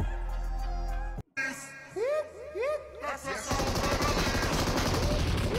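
Gunfire in the mobile battle-royale game PUBG Mobile: a low rumble cuts off, then swooping whooshes and rapid bursts of automatic fire break out loud and dense toward the end, mixed with game effects.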